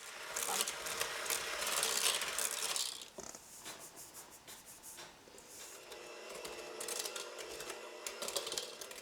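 Eggs and a teaspoon of vanilla being beaten into spiced fruit cake batter with an electric mixer, a steady whirring, clattering buzz that runs for about three seconds, drops, then carries on more quietly with intermittent bursts.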